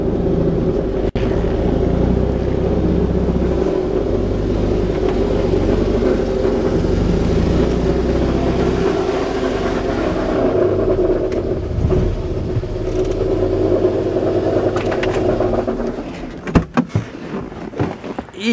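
An automatic garage door runs as a Fiat 126P drives in, with a continuous loud, close motor and engine drone, a mechanical rattle near the end, and a few clunks as the movement stops.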